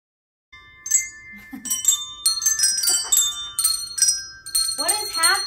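Christmas handbells ring one after another in an uneven, overlapping sequence, bright and sustained, with some voices and laughter mixed in underneath.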